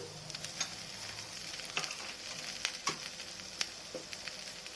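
Rice being stirred in a hot pan while it fries, with a steady sizzle and several sharp scrapes and clinks of a utensil against the pan, fairly close and with no talk.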